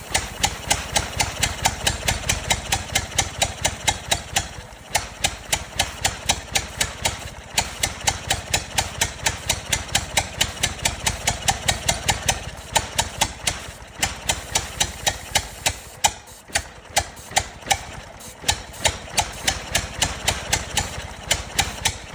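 A 104-year-old Ford Model T engine runs unevenly, with rapid rhythmic chuffing pulses, brief stumbles and dropouts, close and fairly loud, not running on all four cylinders.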